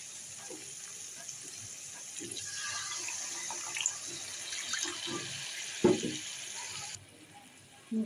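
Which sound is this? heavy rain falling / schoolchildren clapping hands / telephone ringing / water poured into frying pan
water poured into frying pan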